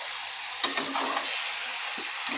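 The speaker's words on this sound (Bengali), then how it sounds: "এবার সব একসঙ্গে কষিয়ে নেব মশলার সাথে।" Bottle gourd sautéing with spices and coriander leaves in a pan for a gourd, potato and prawn curry gives a steady close sizzle, broken by a few sharp stirring scrapes.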